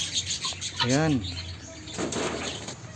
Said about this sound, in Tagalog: May maraming mga ibon dito mga viewers.